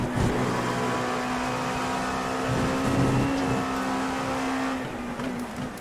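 Dallara P217 LMP2 race car in iRacing, a steady high-pitched engine drone holding near constant revs as it runs on track, with brief shifts in tone, no talk.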